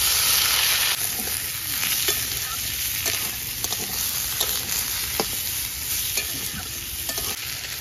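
Potatoes sizzle steadily in hot oil after lightly fried onions, a constant close crackling hiss broken by occasional scraping stirs of a spatula.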